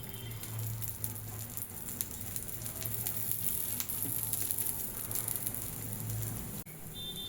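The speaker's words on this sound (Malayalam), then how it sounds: "നമ്മൾ സൈഡിലേക്ക് കുറച്ച് എണ്ണ ഒഴിച്ച് കൊടുക്കാം" Oil poured around the edge of a masala dosa on a hot pan, setting off a soft, close, crackly sizzle like light rain that carries on steadily and then briefly cuts out near the end.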